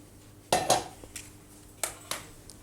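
Metal pots and cookware clank onto a cooker, several sharp knocks and clatters close by, two bunched near the start and two more a second later, with no talking.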